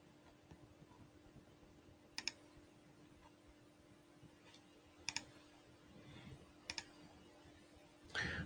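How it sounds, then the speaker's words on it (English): Faint, quiet keystrokes tapping on a computer keyboard, with a few sharper clicks standing out against a low steady hum. "Just typing to get some more details."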